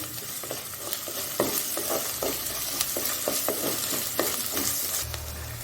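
Ginger garlic paste fries in hot oil for an Indian dhaba-style chicken handi, a loud steady sizzle with a spoon stirring and scraping the pan in repeated strokes.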